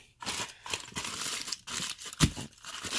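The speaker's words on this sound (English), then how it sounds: "It's got a big foil ball, and can open up into a foil circle" Foil wrapping on a giant Ferrero Rocher crinkles and tears as it is pulled open, close and fairly quiet, in several short rustling bursts with a sharper rip near the end.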